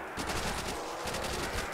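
Rapid Thompson submachine gun fire in a zombies video game, a dense, loud, continuous stream of shots with a steady rattling rhythm throughout.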